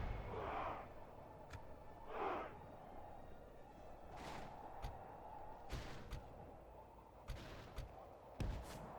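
Divide & Conquer battle gunfire from a Woodland Realm campaign, faint scattered shots and booms spaced apart over quiet rumbling, fairly distant.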